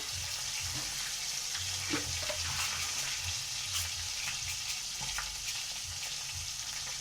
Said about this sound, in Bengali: মাছগুলো ভাজা হয়ে গেছে, কড়াইতে আমি তেজপাতা দিলাম